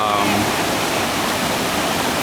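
Bopath Ella waterfall in Sri Lanka, a loud, steady roar of falling water filling the whole clip as a dense broadband rush with no pauses or voices.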